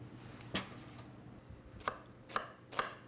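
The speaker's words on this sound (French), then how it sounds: "Découpez en mirepoix vos oignons, carottes." Onions and carrots are diced into mirepoix with a knife, four separate sharp chops on a board over a low background hum, quiet and fairly close, no speech.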